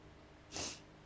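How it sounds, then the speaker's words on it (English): A person with a cold gives a single short, breathy nasal sniff or snort, close and fairly soft, lasting about a quarter second against a quiet room. "Excuse me, sniffing away here."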